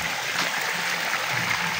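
Hot spring water at Toyuzo Hot Springs in Nabunturan, Davao flows in a continuous close, hissing rush, steady and fairly loud with no talk.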